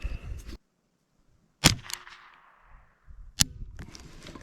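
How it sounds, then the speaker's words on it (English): A .22 LR rifle firing standard velocity Eley ammunition: two sharp, loud cracks about two seconds apart, each ringing off briefly, with quiet handling noise and faint speech between shots. "Usually the Eley cycles very well through this rifle"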